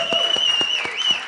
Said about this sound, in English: I want everyone to give a big round of applause for Ben.